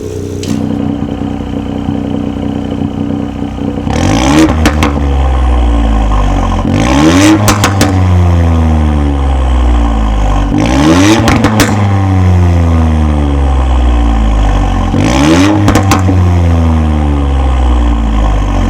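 A Ford Fiesta ST Mk8 with its exhaust valve open is revved loudly and close up, with several sharp rises and falls in pitch over a throaty idle, each rev ending in crackling burbles, and no talking.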